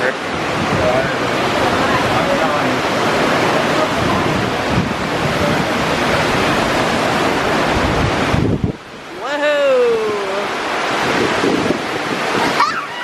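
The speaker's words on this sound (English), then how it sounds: "river." River water rushing along a walking path, a loud continuous roar close by for most of the stretch, then dropping back to a quieter flow as a voice speaks over it near the end.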